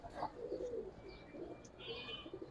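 Giribaz pigeons of the Palla line coo softly in a loft out in the sun, low murmuring calls with a few faint chirps over a quiet, steady background.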